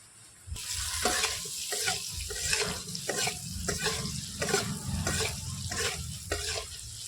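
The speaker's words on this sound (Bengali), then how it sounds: "আলুটাকে একটু ভাজা ভাজা করে নেব" Potatoes frying in a pan with turmeric and slit green chilli, a constant sizzle broken by rhythmic scraping stirs from a spatula, close and without speech.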